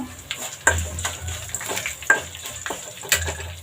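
Curry leaves and broken dried red chillies frying in hot oil for buttermilk rasam, a close steady sizzle broken by sharp crackles and occasional stirring clinks.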